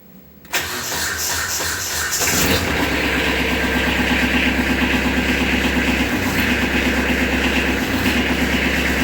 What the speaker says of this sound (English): we'll start it up and check this thing out